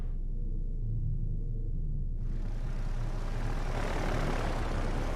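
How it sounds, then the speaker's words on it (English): Dauntless dive bombers approaching in a World War II naval video game, a steady roaring drone of piston aircraft engines that swells and brightens partway through, loud and continuous with no talking. "Take a look at the aircraft as they approach."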